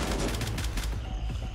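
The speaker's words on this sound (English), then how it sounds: "He's shooting me through the wall" Gunfire through a wall in the video game Grayzone, loud rapid shots in a quick rhythmic burst, heavy and close, then easing off toward the end without any talk.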